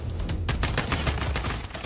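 Gunfire in the video game Warzone: a rapid burst of repeated shots after a brief lead-in, loud and close, continuing through the short stretch without talk.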